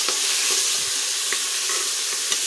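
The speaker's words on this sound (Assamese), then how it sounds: "এইখিনি অকণমান লৰাই লৈছোঁ" Chopped mixed vegetables for khichdi frying in a pan, a loud continuous sizzle punctuated by soft taps and scrapes as they are stirred, close up.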